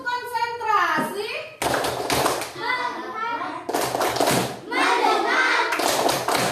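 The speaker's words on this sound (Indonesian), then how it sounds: "tepuk konsentrasi" A classroom of children chants together and breaks into bursts of rhythmic concentration clapping, three quick clusters of claps set between stretches of group voices.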